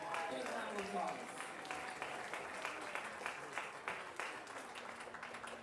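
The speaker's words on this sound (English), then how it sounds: "Big round of applause." An audience at a Chanukah sing-along applauds in a steady, fairly distant burst of clapping that tapers toward the end, with some voices underneath.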